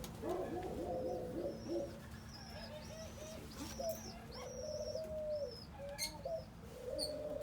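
Doves coo in a low, repeated murmur at a bird farm, close by, with higher chirps and whistles from other birds layered above throughout.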